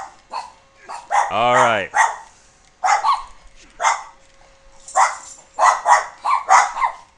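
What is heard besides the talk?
dogs barking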